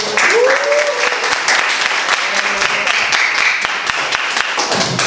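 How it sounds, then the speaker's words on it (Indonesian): A classroom full of students clapping steadily and loudly for a group during a mathematics lesson, a dense sustained round of applause with a brief voice or tone at the start. "beri tepuk tangan kelompok terakhir"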